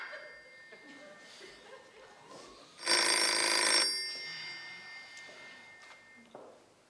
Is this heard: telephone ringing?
yes